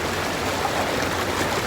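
Minnehaha Falls waterfall and river, a steady broadband rush of water filling the whole clip, close and continuous, with no voices.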